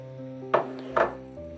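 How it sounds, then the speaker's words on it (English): Chopped onions dropped into a pan of browning ground beef, two quick close thuds and scrapes in succession over a steady background hum, with no talking. "I'm going to add in my chopped onions."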